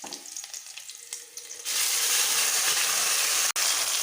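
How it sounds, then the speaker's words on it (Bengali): A spice paste with green chillies and bay leaf hitting hot oil in a wok, a loud steady sizzle that bursts in suddenly and continues with stirring. "পেস্টটাকে সবসময় একটু নেড়ে চেড়ে ভাজা করতে হবে যতসময় পেস্টটা থেকে তেল ছেড়ে না দিচ্ছে।"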